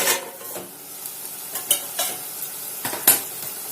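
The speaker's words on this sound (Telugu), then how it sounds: "ఉల్లిపాయలు వేగుతున్నాయి" Onions fry in a pan with a chicken gravy underway, a soft hissing sizzle broken by several crisp spatula scrapes and stirring clinks at irregular intervals, without any voices.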